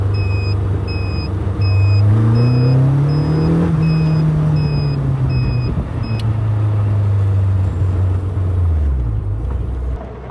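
A Caterham 360S sports car drives past or on the road, its engine note rising and falling in a steady drone with heavy wind rush, loud and continuous with no talking.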